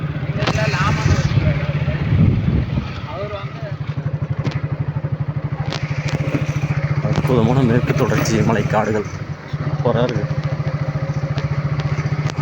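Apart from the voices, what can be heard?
motorcycle engine running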